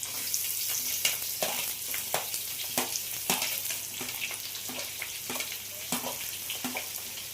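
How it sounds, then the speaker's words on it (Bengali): Carrots and other vegetables fry in a pan with whole cloves, a cinnamon stick and a bay leaf for basmati fried rice, giving a close, steady sizzle broken by repeated sharp scrapes of stirring. "এবার আমি সব সবজিগুলো ভেজে নেব। প্রথমে আমি গাজরটা দিয়ে দিলাম।"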